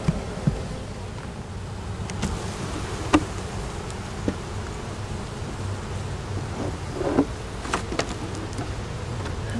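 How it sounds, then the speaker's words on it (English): A dense, steady buzz of many honey bees inside a hive fills the space close by, with occasional faint knocks and rustles. "There's a good amount of little bees in here."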